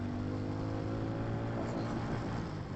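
X440 accelerating hard at full throttle in second gear, its engine note droning steadily and rising slightly in pitch, close and continuous with no talk.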